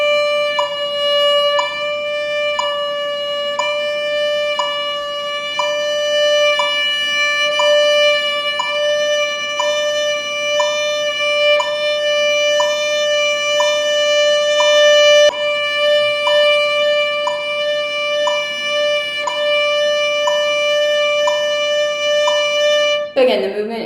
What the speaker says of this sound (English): A stage 2 vibrato might look and sound something like this.